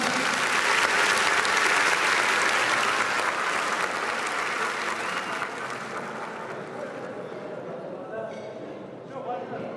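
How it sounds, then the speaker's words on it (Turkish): Wedding guests applaud together in a loud burst of clapping that gradually fades and thins over several seconds, with crowd voices mixed in beneath. "Alkışlar gelsin Sağducu'ya."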